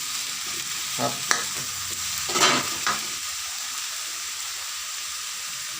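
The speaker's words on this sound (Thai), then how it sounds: "ผมพัดไปเรื่อยๆครับ" Ingredients stir-fried in a pan for a northern Thai khua dish, with steady sizzling throughout and a few louder scraping stirs near the start, plus a brief spoken word.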